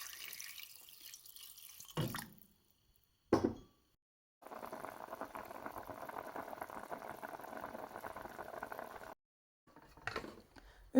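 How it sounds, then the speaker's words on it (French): Water is poured from a tap into a pot for precooking meat, with a short splash, a pause, then a steady running pour for several seconds before it stops and a few drips and clinks follow, fairly quiet and close. "Je vais rajouter de l'eau et je vais précuire le tout"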